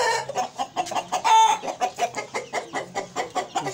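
Aseel chickens and roosters cluck at a poultry setup in a rapid, rhythmic series of loud, close bursts, with one longer call in the middle and overlapping birds in the background.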